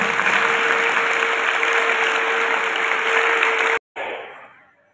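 An audience at a Holi gathering in Braj claps loudly to welcome the MP, dense continuous applause that cuts off abruptly near the end, then briefly resumes and fades away.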